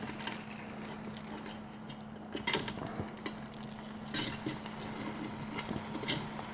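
Pork chops sizzle and fry steadily in a Ninja Foodi, a continuous close crackle with small pops and a brief stir or clatter partway through, no voices.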